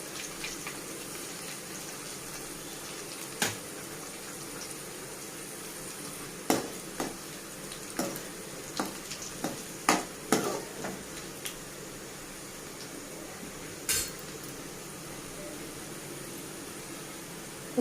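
Cumin, fenugreek, mustard seeds and dried red chillies sizzle in hot oil as a tempering for mango pachhadi, a faint steady hiss broken by scattered sharp pops and crackles.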